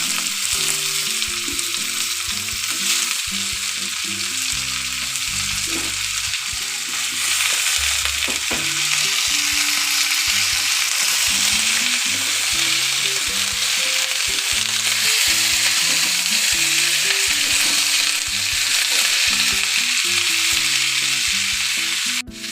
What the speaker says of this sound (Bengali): গাজর, বিনস, কেটে রাখা সব সবজি আমি একে একে এখানে সব দিয়ে দেবো।